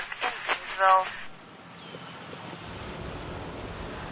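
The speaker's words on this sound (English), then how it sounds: "It's where you see the white water here along the river." Fast-moving white water rushes along the Milwaukee River near a dam at Village Park in Thiensville, a steady broadband roar with wind noise, heard after a brief burst of talk at the start.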